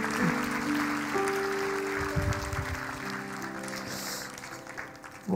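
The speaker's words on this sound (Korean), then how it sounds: "다시 한번 우리 두 분 장로님께 뜨거운 박수로 감사합니다" A church congregation applauds during a Sunday worship service at Bethel Church in Jeongneung, with steady clapping over sustained instrumental tones that fades toward the end.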